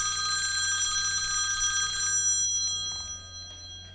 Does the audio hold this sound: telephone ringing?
yes